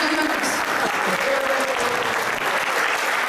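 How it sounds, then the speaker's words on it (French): An audience applauding at an evening charity gathering in Maubeuge, France, a dense, steady round of clapping from a crowd, moderately loud and continuous, with a voice faintly under it. "Je voudrais qu'on applaudisse"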